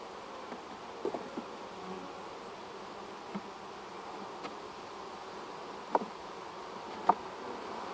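Soft, constant buzzing of many honey bees close by at an open hive, with a few faint clicks and taps scattered through.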